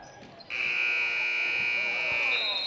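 A high school basketball game's buzzer blares as one loud, steady electronic tone lasting about two seconds, rising abruptly out of gym noise and holding to the end.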